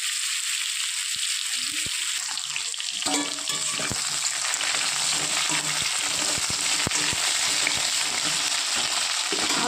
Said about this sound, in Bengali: আলুটা একটু হালকা করে ভেজে নেওয়ার পর পটল, একটু বেগুন আর সজনে ডাঁটা দিয়ে দেবো।